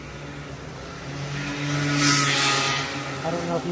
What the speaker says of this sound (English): I don't know if you can see another car is coming.